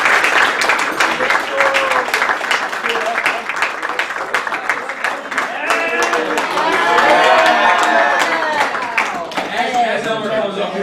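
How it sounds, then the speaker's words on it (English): Guests at a men's soccer banquet break into a loud, sustained round of applause for a departing player, many hands clapping close and continuous while voices carry through the crowd. "Let's give Elmer a round of applause"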